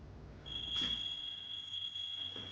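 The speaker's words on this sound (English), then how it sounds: "That's the fire alarm." An indoor fire alarm sounds one continuous, piercing high-pitched tone that starts abruptly and holds steadily for about two seconds, with a couple of faint knocks around it.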